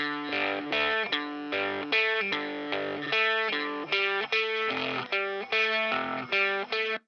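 Electric guitar played through a crunchy amp head and distortion pedal, delivering a steady stream of gritty, saturated chords in a driving rhythm, loud and continuous with no speech.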